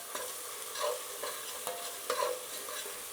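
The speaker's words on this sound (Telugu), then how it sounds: "ఇప్పుడు ఈ అల్లం వెల్లుల్లి పేస్ట్ కూడా పచ్చివాసన పోయేదాకా బాగా వేయించుకోవాలి." Ginger garlic paste fries in a pan, giving a soft, steady sizzle with a few quiet spatula stirs scraping through it, fairly faint and with no talking.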